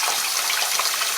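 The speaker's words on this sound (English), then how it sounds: "I've turned the water on as a test" Water runs steadily from a rebuilt Delta single-handle faucet, a continuous close hiss and splash that holds evenly throughout with no voices.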